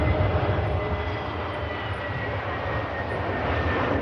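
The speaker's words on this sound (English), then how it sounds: "And we'll touch down after this easy arrival from Enfida." An EasyJet A320neo-family jet touches down on arrival at Manchester Airport, a steady broadband engine roar with low rumble holding at moderate level throughout, no voices.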